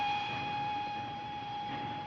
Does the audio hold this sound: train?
yes